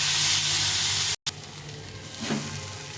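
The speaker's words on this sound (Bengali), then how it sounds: "দিয়ে এটাকে ভালো করে নেড়ে চেড়ে ভাজা ভাজা করে দেবো।" Boiled chickpeas fry with whole onions, garlic and tomatoes in a hot pan while being stirred, giving a steady close sizzle with a brief dropout and a small stirring clatter near the end.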